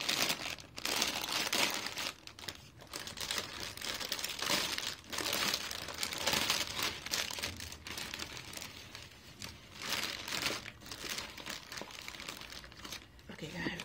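Crinkly plastic packaging rustles and crackles near the microphone as a bra is pulled out of it, a steady run of crumpling and tearing-like bursts for most of the stretch.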